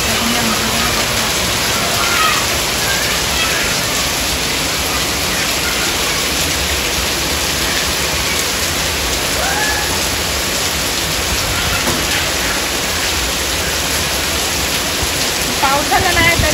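Sudden heavy monsoon rain with strong wind in a village farm setting, a loud dense continuous roar of rainfall and gusts filling the whole stretch, with voices faintly under it.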